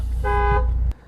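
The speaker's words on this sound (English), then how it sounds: "the horn sounds like this" A single steady car horn honk from a Volvo S60 Cross Country, loud and close, lasting under a second before cutting off abruptly.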